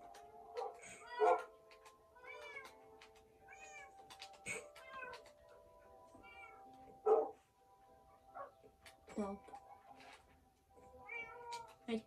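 A cat meows repeatedly indoors, several distinct rising and falling cries spaced a second or two apart, fairly faint, mixed with soft rustles, a few short yelp-like sounds and low background noise.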